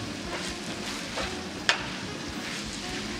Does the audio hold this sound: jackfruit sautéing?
yes